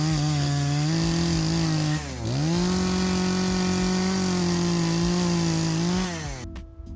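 A chainsaw cuts through a length of chinaberry wood that has dried for a few months. It runs loud and steady at high revs, bogs down briefly partway through, recovers, and then winds down at the end.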